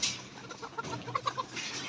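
Layer pullet chickens cluck in a series of short calls while a truck is loaded for delivery on a poultry farm, close and moderately loud over steady background noise with no talking.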